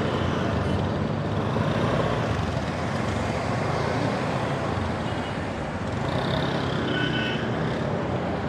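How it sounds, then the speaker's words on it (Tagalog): Continuous road traffic noise near a busy mall area in Manila, a dense steady wash of passing cars, trucks and buses with a faint air-brake hiss, heard from inside a moving vehicle with no talking. "Traffic."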